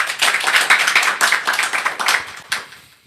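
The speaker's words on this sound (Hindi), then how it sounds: "और एक बार बजा दो," An audience at a religious gathering breaks into dense, crowded hand clapping for about three seconds, fairly loud and close, then the clapping fades out.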